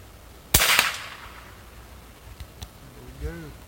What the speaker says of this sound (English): I'm going to shoot the bottom of the bottle, that way I can leak all the red food coloring out of it.